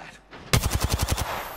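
Automatic weapon fire in the battle game Apex Legends, a rapid burst of about nine close, loud shots in even rhythm after a brief quiet lead-in.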